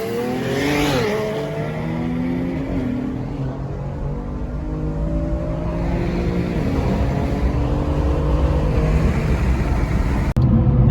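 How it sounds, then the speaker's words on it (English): A single-turbo BMW 335 accelerates hard and loud, its engine note rising steadily through the gears and holding a strong, continuous drone close by with no talking. "Yep, guys, that is a single turbo 335. Thing's pushing big power"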